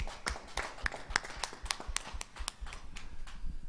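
A small congregation at a Sunday church worship service claps, the individual claps distinct and irregular, moderately close and fairly soft.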